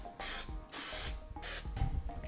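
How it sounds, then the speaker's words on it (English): Three short hissing bursts of cooking spray coating baking pans over a kitchen sink, each lasting about half a second, close and fairly loud, with small clatters between bursts. "Spray my pans. Do this over the sink."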